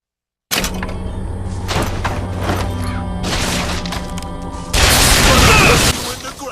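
Vigor powers and weapon fire clash with enemies in Bioshock Infinite combat: a dense, loud run of crashes, thuds and bursts that swells into a harsher blast near the end.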